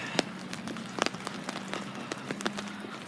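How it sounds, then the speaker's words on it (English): Rain falling on a street in windy, stormy weather, a steady patter with sharp intermittent drips and splashes close by, no voices. "This is how bad the wind and the rain have gotten"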